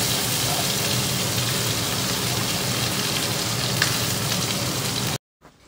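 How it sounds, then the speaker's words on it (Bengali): Potatoes frying in oil in a home kitchen, a steady dense crackling sizzle that runs close and even, then cuts off abruptly near the end. "এবার ওই তেলের মধ্যেই আলুটাকেও ভেজে নিচ্ছি"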